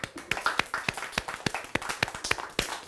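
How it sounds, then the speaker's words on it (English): A school class claps together in a quick, steady rhythm, about a dozen sharp claps close by with no talking. "clap for your school"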